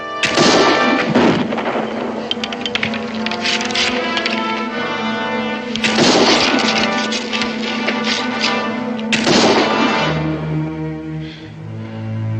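Gunshots fired on command in a 1969 western drama ring out as three sharp, loud blasts spaced several seconds apart, layered over a sustained orchestral score.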